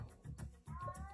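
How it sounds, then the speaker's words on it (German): A cat meows in the video game Bad Rats, several short, quiet mews in quick succession, faint and close, with no talk over them. "Was sind das für Katzengeräusche?"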